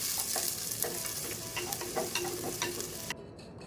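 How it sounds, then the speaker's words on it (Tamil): Chopped small onions sautéing in hot oil with fenugreek seeds for a Tamil catfish curry, a steady close sizzle with light stirring clicks and scrapes throughout, then a sudden drop in the hiss near the end. "நறுக்கின 21 சின்ன வெங்காயம் சேர்த்து வதக்கிக்கலாம்"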